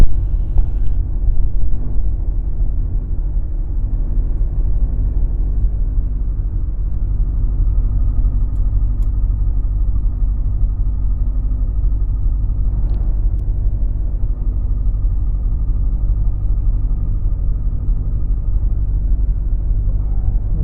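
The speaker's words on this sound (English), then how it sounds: "Okay, the engine start is complete." Light aircraft engine running steadily just after start, a loud continuous low rumbling drone with little variation, heard close up from the cockpit with no talk.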